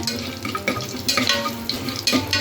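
Whole spices such as poppy seeds, star anise and stone flower are sautéed in a pan, heard as a steady, soft sizzle broken by irregular stirring and scraping sounds at close range, with no talking.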